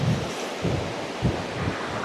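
Waves wash onto Thalassery beach in Kannur, Kerala. Rolling surges come about every half second to second over constant wind rush against the microphone, with no voices.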